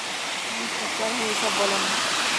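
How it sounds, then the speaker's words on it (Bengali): Turga Falls in Purulia, a steady broadband rush of falling water filling the whole clip, with a voice talking over it in places. "এটা হলো পুরুলিয়ার তুর্গা ফলস"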